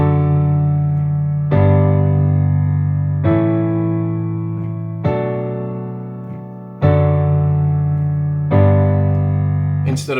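Piano chords from a worship song are each struck once and left to ring and decay, six full, evenly spaced chords played alone.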